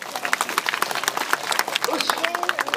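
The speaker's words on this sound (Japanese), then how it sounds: "諸君、このちびっ子たちに拍手だ。" Audience applause for children at a Kamen Rider hero show, a dense crowd of claps rattling steadily and fairly close, with some cheering and a background hubbub of voices.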